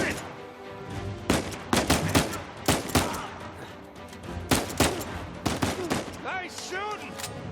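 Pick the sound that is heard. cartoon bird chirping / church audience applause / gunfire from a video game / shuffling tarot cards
gunfire from a video game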